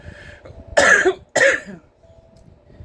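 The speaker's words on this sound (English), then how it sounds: "I'm probably going to cough a lot for" Two loud, harsh coughs in quick succession, close to the microphone, with near silence before and after.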